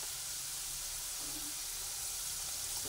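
Onion and ginger fry with spices in hot oil, giving a steady, soft, broad sizzle and hiss that continues evenly throughout at low volume.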